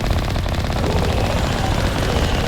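Rapid sustained automatic gunfire in Mass Effect, a loud dense rattle of shots with no break, filling the whole stretch.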